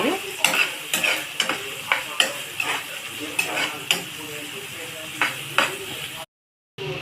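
Bitter gourd frying in a pan, a close, loud sizzle punctuated by a rapid series of sharp spatula scrapes and clanks against the pan, then an abrupt cutoff to silence.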